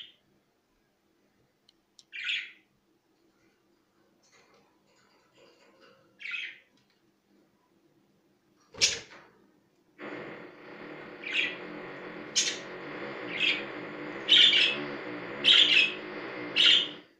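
Pet birds in a cage chirp in scattered, bright calls, first sparse and separated by quiet, then joined by a steady rattling drone from a neighbour's rotary hammer drill while the chirps continue on top.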